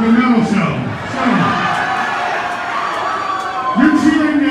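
A metal show crowd at a concert in Philadelphia cheers and shouts in a dense, steady roar, with a few higher whoops rising above it and a voice talking through the noise.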